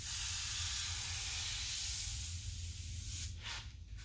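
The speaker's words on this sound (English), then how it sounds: "I'm just gonna try to use this airbrush all the way max width" Airbrush spraying a dagger stroke on paper, a loud steady close hiss at full width that thins out, then two short hissing bursts near the end.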